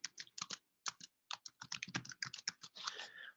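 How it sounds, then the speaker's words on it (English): Quick bursts of typing on a computer keyboard, fairly close and quiet, with short pauses between clusters of keystrokes and a denser run of keys at the end. "Let me make sure I type that in correctly."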